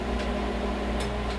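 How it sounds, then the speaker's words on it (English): A running microwave oven hums steadily with a low electrical drone and faint airy fan noise, close and continuous, with no talk over it. "Alexa, stop the microwave."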